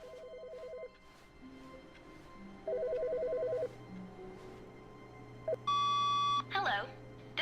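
Phone ringing in The Stanley Parable game, short electronic trilling rings in repeated bursts, a few separate tones and beeps, then a bright high chirp near the end, with a voice speaking faintly underneath.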